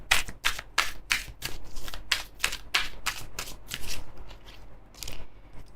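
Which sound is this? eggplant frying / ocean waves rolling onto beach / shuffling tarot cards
shuffling tarot cards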